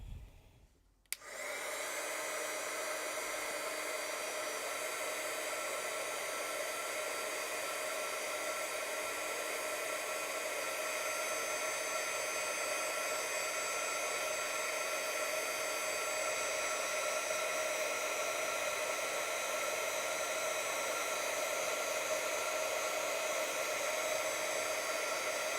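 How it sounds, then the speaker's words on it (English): A heat tool blows hot air steadily onto watercolor paper, a loud continuous whooshing hiss that starts abruptly after a brief quiet moment and holds evenly to the end. "Let me try to zap it with a heat tool to see how it reacts."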